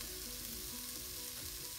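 Tomato puree fries in a pan for a lamb goulash, giving a soft, steady sizzle and hiss with faint stirring, quiet and continuous without talk.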